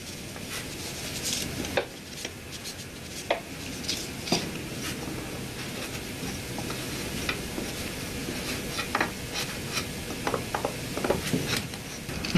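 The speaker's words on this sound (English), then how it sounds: "with another dowel, just kind of compact it in. Make sure everything's nice and tight in there, and compact that sawdust" A wooden dowel packs sawdust down into a can, giving a steady close scraping and crunching with scattered sharp taps and knocks.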